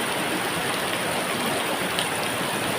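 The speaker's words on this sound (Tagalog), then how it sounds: "Grabe ang lakas ng ulan," Steady, dense hiss of heavy rain pouring down, constant and loud with no gaps and no voices.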